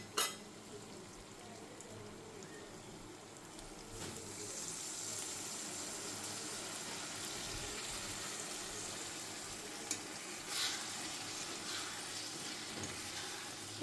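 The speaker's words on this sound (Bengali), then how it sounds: "একটু জল দিয়ে দিই, নিচে লেগে যাচ্ছে।" Water is poured into a hot pan of potato curry, raising a steady, soft sizzling hiss. A few faint clatters sit over the continuous frying noise, and no one speaks.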